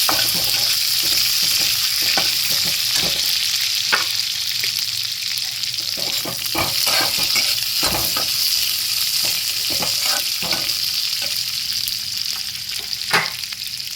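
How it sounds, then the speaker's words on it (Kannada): Fenugreek leaves for chutney sizzle steadily in a hot pan close by. Frequent scraping and tapping from stirring punctuate the constant crackle. "ಈಗ ಮೆಂತ್ಯ ಸೊಪ್ಪು ಹಾಕ್ತಾ ಇದ್ದೀನಿ ಇದು ಅಷ್ಟೇ ಸ್ವಲ್ಪ ಬೆಚ್ಚಗಾದರೆ ಸಾಕು"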